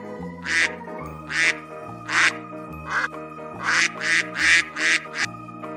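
A duck quacking in a run of about eight loud, nasal quacks, close and clear over a sustained musical tone, with some calls bunched closely together.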